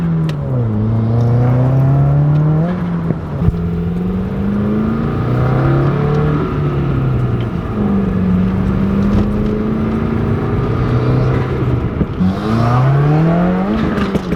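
Subaru WRX engine revving under boost from inside the car, loud rising and falling engine pitch through repeated pulls and gear changes, with brief pauses between surges.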